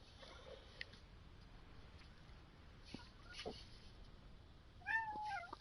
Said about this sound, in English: This is my son's cat, Sparks